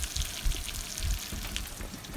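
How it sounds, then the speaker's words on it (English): Catfish fries in hot oil while cooking on a boat, a faint, steady sizzle with soft crackling pops, and no talking over it. "There's catfish frying."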